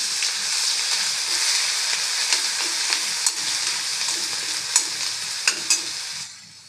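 Ginger-green chili paste frying in hot oil in a kadhai for samosa potato filling, a loud, bright continuous sizzle with repeated scraping stir strokes, close up, fading out at the very end.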